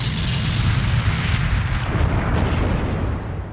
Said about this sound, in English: I'm surprised Alan wasn't blown off his feet by the explosive 10 feet to his left.